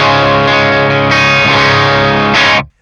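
PRS Tremonti electric guitar on the bridge pickup with a high-gain distorted tone, chords ringing out thick and sustained, struck again a couple of times before cutting off abruptly.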